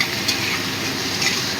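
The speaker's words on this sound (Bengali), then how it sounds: "টমেটোটা দিয়েও মিশিয়ে দিচ্ছি।" Tomatoes are stirred into frying onions in a pan for masoor dal, giving a continuous close sizzle with faint stirring scrapes and no talking.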